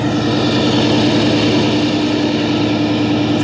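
A V8 diesel engine idles steadily close by, a low, even rumble with a constant hum and no voices.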